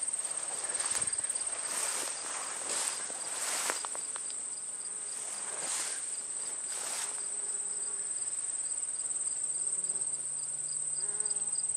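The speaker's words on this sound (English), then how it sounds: "if you got ears, you can pretty well hear the bee activity" Bumblebees and honeybees buzz steadily while feeding on thistles beside a cornfield in Minnesota in late summer, a dense continuous insect drone with a high steady whine throughout and occasional closer buzzes passing.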